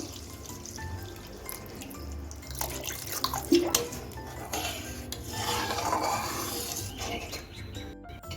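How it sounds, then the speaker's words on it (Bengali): Water poured into a cooked mustard spice paste in a pan for a fish gravy, a soft trickling and rubbing sizzle with small drips, fairly quiet and steady. "এখন আমি গ্রেভিটা তৈরি করার জন্য জল দিয়ে দিচ্ছি"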